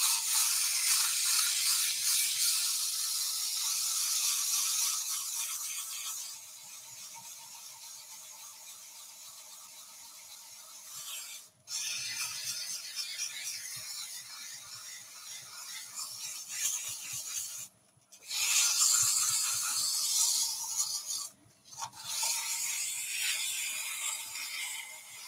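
Hand sanding of an epoxy and twig wood bowl gives a steady raspy scrubbing hiss in long strokes, broken by brief pauses, close and fairly quiet.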